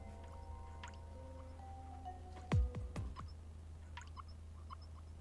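A single water droplet drips in the video game Ghost Trick, landing as a clear plink with a quick ringing bloop and a fainter echo after it, set over a quiet low hum.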